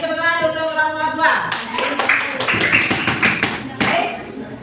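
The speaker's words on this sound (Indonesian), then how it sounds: "Dan kasih tepuk tangan untuk orang tua." Students clap for their parents in a classroom, a burst of many hands clapping that follows a voice speaking briefly at the start.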